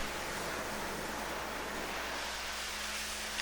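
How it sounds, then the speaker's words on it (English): A power washer spraying water onto a large-format screen to strip red blockout, a constant dense rushing hiss of spray running steadily without break. "Continue to use the power washer to remove all the red block out from the substrate side."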